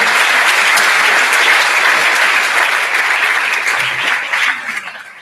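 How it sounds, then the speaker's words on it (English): A large crowd at a high school graduation ceremony claps loudly and steadily in a big hall, the dense applause tapering off near the end. "So that's a big round of applause."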